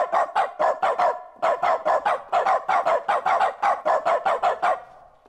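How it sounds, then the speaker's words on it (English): A dog barks in rapid, clipped bursts as the replacement for the use-button sound in The Stanley Parable, with many evenly paced barks in quick groups separated by short pauses, loud and close. "It replaces the sound, the weird keyboard sound that you get when you use the use button with barks."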